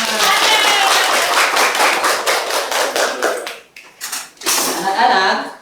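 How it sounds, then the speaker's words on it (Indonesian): A classroom of children claps together, a dense run of sharp hand claps that thins out briefly before a second loud burst of clapping. "Bagus, tepuk tangan semua."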